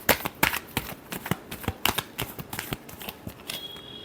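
Tarot cards being shuffled in a Hindi reading session, a close run of crisp riffling bursts repeating quickly and evenly with no talk.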